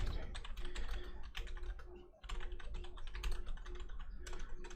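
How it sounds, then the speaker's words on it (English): Rapid, uneven typing on a computer keyboard fills the clip, close and clear, with bursts of key clicks separated by a brief pause near the middle and no talk. "I'm typing here."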